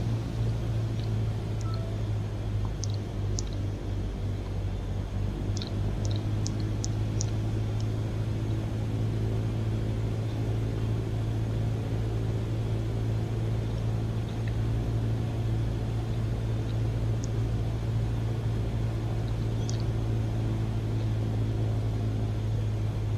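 Light aircraft engine throttled back to 1500 rpm during a circuit, a steady droning hum heard from inside the cabin with faint brief beeps above, constant and unbroken, no talk.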